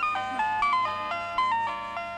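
A phone rings in a hospital setting with a bright electronic melodic tone, repeating short chiming notes close by and alone.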